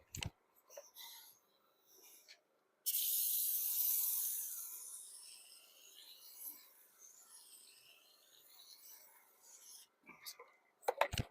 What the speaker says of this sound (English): we can go ahead and spray down the wheel and the tire